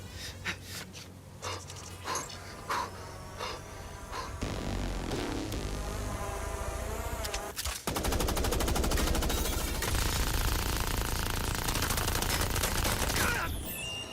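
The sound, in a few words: gunfire in the video game MindsEye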